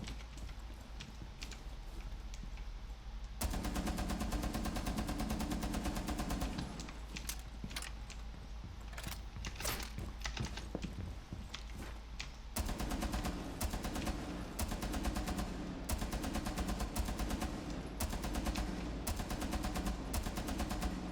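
Rapid bursts of automatic gunfire in a first-person shooter, tested on a Red Dragon RX 570 graphics card, crackle densely and loudly over a constant game background, with rhythmic shot patterns and no voices heard.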